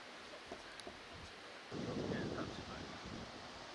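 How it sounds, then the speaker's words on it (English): Wind gusting across an open disc golf course at Östra Ryd during a tournament final, a soft rumbling rush that swells sharply partway through and keeps blowing steadily, with no talk. "It's still a little bit windy here"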